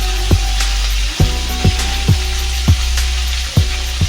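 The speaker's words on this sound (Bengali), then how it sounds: "টমেটোটা একটু নেড়ে নিব। তো তার মধ্যে দিয়ে দিব হলুদ" Tomatoes with turmeric sizzle steadily in a pan while a spoon stirs them, giving a continuous close hiss broken by about six sharp scraping knocks against the pan.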